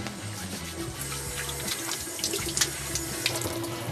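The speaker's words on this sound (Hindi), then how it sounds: "लेकिन सबसे पहले हम हाथ धो लेते हैं" A kitchen tap runs steadily as hands are washed beneath it, a close, continuous hiss of water with small splashes and shifts in the flow.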